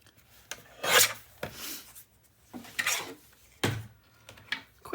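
Paper being cut along a score mark flap while making a mini album, several short crisp snips and rustles close by at uneven intervals, with quiet gaps between them.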